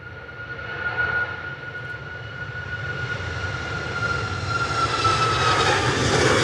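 A Ryanair Boeing 737 MAX 8 operated by Malta Air taking off from Manchester Airport, a loud, sustained jet engine roar with a steady whine that swells as the aircraft climbs, with no talk.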